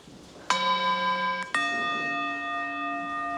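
Two meditation bells are struck one after another, each a clear metallic ring. The second has a lower pitch and rings on, fading slowly in a quiet room.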